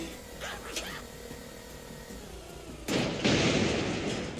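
A bomb detonates in a video game, bursting loud and broad from about three seconds in and rumbling on to the end, after quieter game noise and a brief voice.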